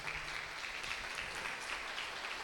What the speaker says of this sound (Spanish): ¿Por qué no le damos un fuerte aplauso al Señor por eso?